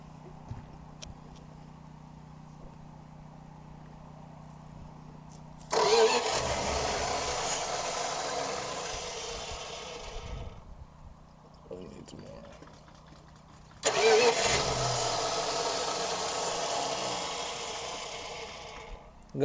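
A 1969 Plymouth Fury III engine cranks and fires twice, each start a sudden loud roar settling into a rough idle, with a quiet rumble and brief voices between attempts.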